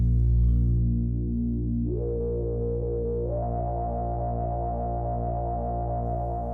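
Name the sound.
Prophet 5 Rev4 synthesizer FM pad through resonant SSM filter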